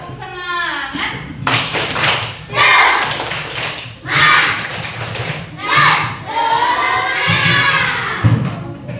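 A class of children doing a rhythmic clapping chant, loud sharp claps in patterned bursts mixed with chanted and shouted young voices close by.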